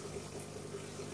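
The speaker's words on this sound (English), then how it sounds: "Got this wave maker running to kick up all this mulm, and then the pumping water out" Aquarium water being pumped out during a tank water change while a wave maker runs, a faint, steady watery whirr of flowing liquid and pump hum.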